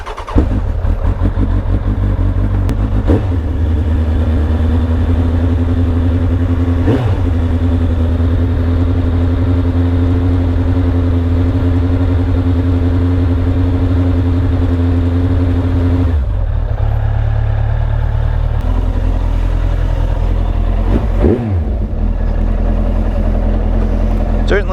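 Suzuki Bandit motorcycle fitted with a jet kit, cold-started and running at a loud, steady idle close by, with a brief blip of the throttle partway through and a few short dips before settling again.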